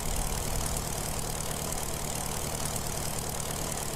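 A steady, loud engine drone fills the scene as an autogyro in Kerbal Space Program makes a vertical landing, a continuous mechanical hum with no speech over it.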